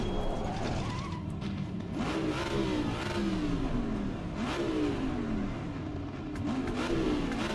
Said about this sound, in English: Let me rev my engine next to this other Mustang.